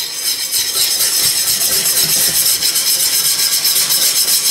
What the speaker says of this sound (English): I'm going to have to start whisking and drop in a little bit.